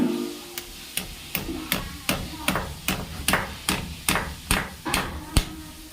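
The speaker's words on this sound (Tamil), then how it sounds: "ஃபிக்ஸர் வச்சுட்டு ஸ்டீல் ஆணி இதாலே கருங்கல்ல அடிக்க போகிறோம் நம்ம" A steel nail is hammered into granite stone using a fixer, struck about a dozen times in a steady rhythm of sharp, ringing metallic blows, close and clear.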